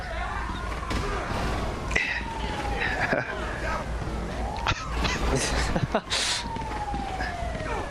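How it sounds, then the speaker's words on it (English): An ambulance siren in a GTA video game wails across a busy city scene, rising and falling under talk and other game noise, with a few sharp slams along the way. "You hear the ambulance, and the ambulance."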